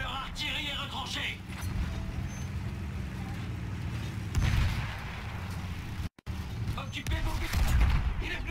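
Battlefield 1 combat with heavy booms of artillery and gunfire under a rumbling battle din, with a few loud thuds standing out and a voice speaking in places.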